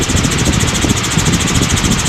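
Steady helicopter engine and rotor drone heard from inside the aircraft during flight near Cocoa Beach, a loud continuous hum with rhythmic blade pulsing and no break throughout.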